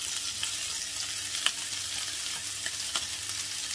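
Chicken for lemper filling fries in a pan with a steady, soft, hissing sizzle throughout, broken by a few light taps and stirring clicks.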